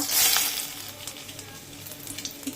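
Whole black peppercorns and bay leaves sizzling in hot oil as a tempering for a chicken soup, a bright close hiss that eases into scattered small pops and crackles, with no talk.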